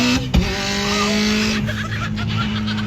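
A Subaru STI launching hard, its engine roaring loud and close with a sharp thump early on as an axle breaks, then the engine note dropping and continuing.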